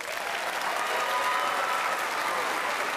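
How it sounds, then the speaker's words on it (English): Sustained applause from a large crowd at a middle school eighth-grade celebration, steady and full throughout with no pauses. "Let's give them a round of applause."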